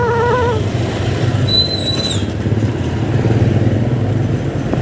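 A Honda Click 125 scooter engine idles with a steady low rumble close by, while brief high whistling tones pass over it and outdoor background noise runs throughout.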